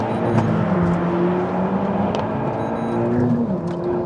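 Renault Megane Trophy-R hot hatch launching hard from a standstill with traction control off, a loud, steady engine roar with rising harmonic tones as it accelerates, no voices over it.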